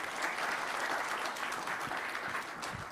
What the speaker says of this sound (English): Please give Monte a big round of applause